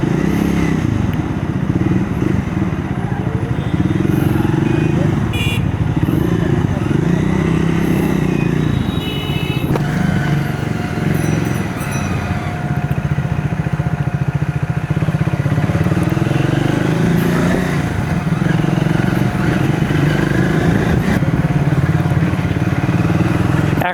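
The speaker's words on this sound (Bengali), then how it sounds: "এখন এই বাইকটাকে চালাচ্ছি," A motorcycle being ridden runs with a loud, steady engine drone close to the mic, with slight rises in revs and some wind and road clatter throughout.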